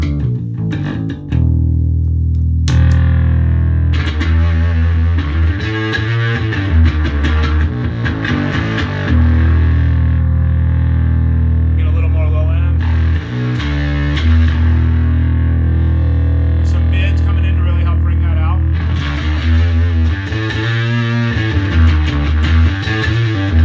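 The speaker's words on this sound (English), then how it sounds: "I can get everything from a super high distortion on bass to just kind of a breakup." Bass guitar heavily distorted through a DOD Boneshaker pedal, played alone, thick gritty notes and chords ringing out loud with brief pauses between phrases.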